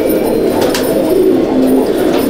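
Madrasi pigeons cooing in a loft, a soft, steady murmur of several birds close by with low drawn-out coos running throughout, no voices.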